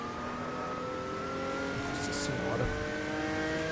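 Opala 86 engine revving hard in the Automobilista racing game on classic Interlagos, a steady droning whine with harmonics running throughout while a man exclaims over it.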